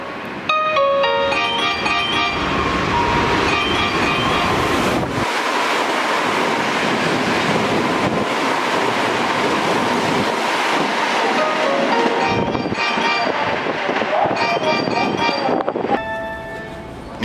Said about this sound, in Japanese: ただいま電車が通過します。